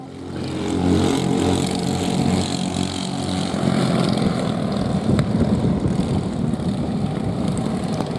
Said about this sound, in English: All coming around, slowing it all down now for their formation lap.